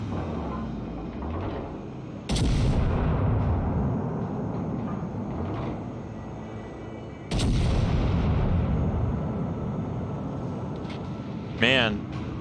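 Warship guns fire in the naval battle game World of Warships: two loud, booming salvos several seconds apart, each trailing off into a rumbling roar, over constant engine and sea noise with a brief sharp effect near the end.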